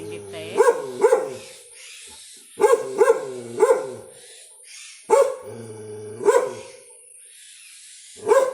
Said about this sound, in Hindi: बस कुत्तों का काम होता है भौंकना, भौंकते रहो